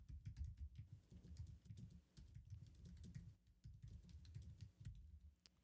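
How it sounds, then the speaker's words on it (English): Rapid typing on an Apple wireless keyboard, a quiet flurry of soft clicking keystrokes with brief pauses, heard faintly and close up. "So here I'm just on an Apple wireless keyboard."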